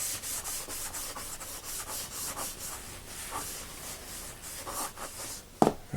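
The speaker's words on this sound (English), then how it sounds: "now you can definitely tell that it's been wet sanded." Wet sanding of Krylon Fusion paint: a steady, close rubbing scrape in repeated strokes, moderately quiet, with a sharper knock near the end.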